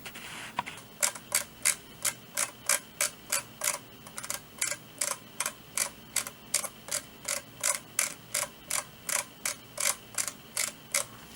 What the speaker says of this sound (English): the scroll wheel is a bit more crispier